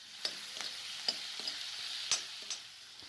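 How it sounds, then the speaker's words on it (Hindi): A vegetable curry is stirred in a pan over a high flame, a steady soft sizzle broken by several sharp scrapes and clicks of the spoon against the pan at an uneven rhythm, close and moderately quiet, with no talking. "तो बस ये सब्जी को मैं चला रही हूँ हाई फ्लेम पे"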